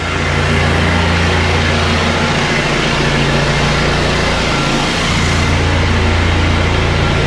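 A steady, loud mechanical drone of two 8-gallon-per-minute pressure washers with a hot water burner running continuously at a restaurant, a low hum with a constant hiss, unchanging throughout.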